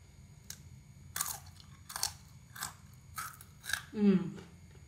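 Thin, crunchy kerupuk atom crackers being bitten and chewed up close, five or six sharp crisp crunches in a steady rhythm, with a brief voice sound at the end.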